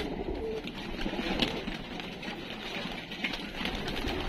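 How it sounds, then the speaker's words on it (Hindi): Pigeons at a seller's stock coo softly and continuously, a low murmuring flock sound over steady background noise. "और बाकी ये सारे कबूतर हैं"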